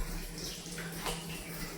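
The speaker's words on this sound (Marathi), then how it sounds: "थोडंसं बारीक चालू झालं आहे पाणी, काही विषय नाही. आता टाकी भरून जाते आरामशीर." A thin stream of water runs through a large pipe into a storage tank, making a steady, even rushing hiss with no voices.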